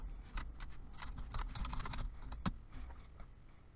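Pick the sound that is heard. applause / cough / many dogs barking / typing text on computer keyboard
typing text on computer keyboard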